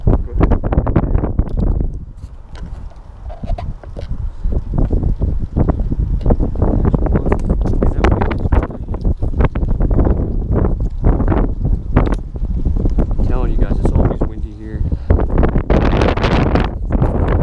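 Gusty wind pummels the microphone outdoors, loud low rumbles and thumps rising and falling continuously, with no clear speech.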